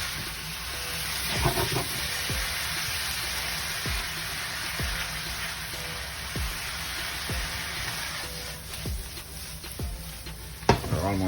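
Ground beef, onion and garlic sizzle in a pan, a steady crackling fry underneath with regular scraping stirs of a spoon at roughly one-second intervals, close up and fairly loud.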